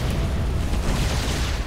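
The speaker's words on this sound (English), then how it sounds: "The Battlecruisers unleash all the Yamato cannons." StarCraft II Battlecruisers fire their Yamato cannons in one deep, heavy, booming blast that fills the whole moment at close range with a steady low rumble.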